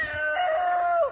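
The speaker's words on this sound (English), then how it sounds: "That's our new batch of chickens." A rooster on a farm gives one short, close crow lasting about a second, a rising then sustained call that drops off at the end, with no talking over it.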